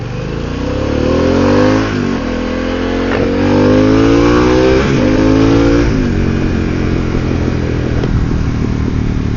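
A Harley-Davidson Pan America motorcycle ridden through Route 18 traffic in central New Jersey, its engine revving loudly up through several gear shifts, each rising whine dropping back before climbing again.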